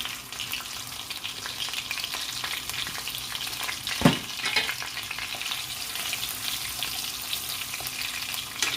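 Green chilli and cumin fry in a pan for a dry cauliflower and pea dish, a steady close sizzle with one sharp scraping clatter midway.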